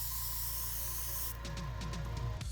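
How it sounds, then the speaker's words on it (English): An airbrush hisses steadily, spraying gloss varnish onto a painted miniature, a continuous close airy spray that cuts off partway, followed by a few soft clicks and handling taps. "why not try airbrushing on the gloss varnish?"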